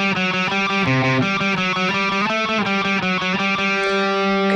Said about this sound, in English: So we'll play that intro riff three times through.